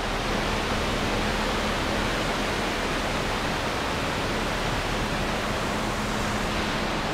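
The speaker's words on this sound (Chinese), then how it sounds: "今天我要来的地点就是这个瀑布，这个瀑布真的很漂亮" A waterfall at a scenic nature spot gives off a constant, even rushing wash of falling water, loud and unbroken with no voices.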